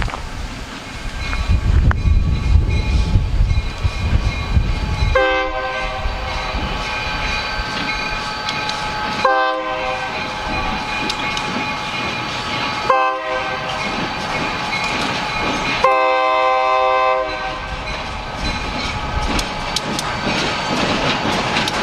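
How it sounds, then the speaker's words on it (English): Escanaba Lake Superior Railroad locomotives 402 and 502 heading south sound repeated loud horn blasts, long and short, over a steady rumble of the passing train, with no talk. "Escanaba Lake Superior Railroad, 402, 502,"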